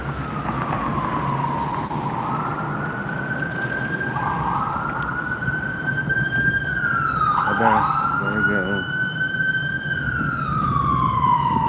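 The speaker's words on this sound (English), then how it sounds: "Ambulance." A loud ambulance siren wails nearby on a downtown Reno street at night, rising and falling continuously with a brief yelp section, over steady traffic noise.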